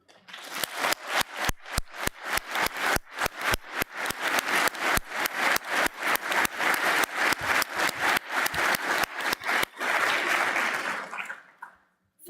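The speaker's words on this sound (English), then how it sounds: "I would like to have a big applause for them." Rhythmic, unified clapping from an audience at a European cinema network conference, with sharp, evenly spaced beats in a hall, then a brief burst of looser applause before fading out.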